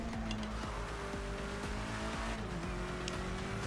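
A race car in a racing game brakes hard for a hairpin, its engine note stepping down through downshifts toward first gear, with a steady droning rumble throughout.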